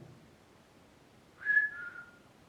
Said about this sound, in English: If I whistle, could you whistle back?